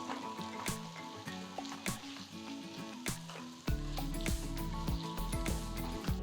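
Finely chopped tomatoes cook in a hot pan with a steady close sizzle, broken by occasional sharp clicks and stirring taps, with background music running underneath and no voices.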